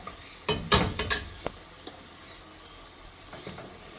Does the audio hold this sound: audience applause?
no